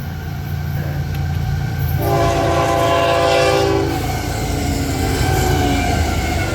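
A Florida East Coast freight train sounds a loud sustained horn salute at a crossing near St. Augustine, Florida, a chord held for about two seconds over the steady rumble and clatter of passing rail cars.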